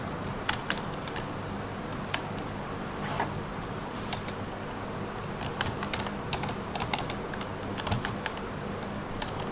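Someone types a search into a web browser on a computer keyboard, steady clusters of light key clicks pattering close by over a soft background hum with no talking.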